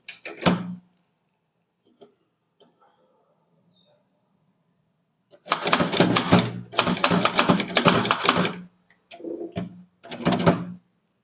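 A manual typewriter clacks as a Tamil junior-level statement with serial numbers and totals is typed: a sharp burst near the start, a few isolated strikes, then a long rapid run of keystrokes followed by two shorter bursts, close and crisp against silence.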